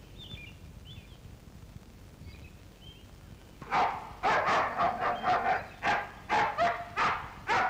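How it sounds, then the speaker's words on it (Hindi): A dog barks in a steady series of about a dozen sharp, loud barks close by, starting after a few seconds of quiet with faint chirps, with no voices over it. "ये कुत्ता क्यों भौंक रहा है?"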